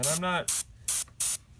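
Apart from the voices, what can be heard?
paint spray from adjustable spray nozzle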